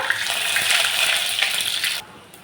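Cumin seeds crackle and spit in hot oil as garlic and ginger fry, a bright, steady sizzle close by that cuts off sharply near the end, leaving a faint hiss.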